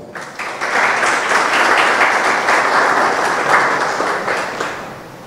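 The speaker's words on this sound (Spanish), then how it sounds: "Por favor, brindémosle un fuerte aplauso." An audience at an inauguration ceremony for a national competency certification centre gives loud, dense applause that swells quickly, holds steady and then slowly tapers toward the end, with no talking.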